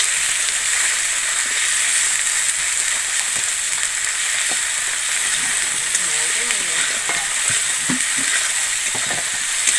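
Steady, loud sizzling of spices with turmeric and salt frying in a hot pan, with occasional scraping and stirring sounds and faint speech in the background.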